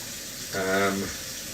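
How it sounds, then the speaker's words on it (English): Running tap water while hands are washed before cooking: a short gush of water, under a second long, rises out of a steady background hum, close by. "First things first, like I said, wash your damn hands."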